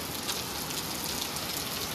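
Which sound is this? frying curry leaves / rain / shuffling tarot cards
rain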